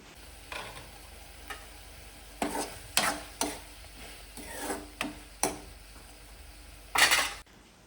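Tomatoes and spices being sautéed in a pan, with a spoon stirring and scraping in a steady series of clinks and scrapes over a soft sizzle, close and fairly quiet, with no talking.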